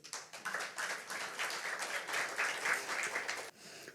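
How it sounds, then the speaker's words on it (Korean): An audience at a lecture applauds, a dense, even patter of many hands clapping for about three seconds before cutting off abruptly. "다시 한번 박수 주십시오."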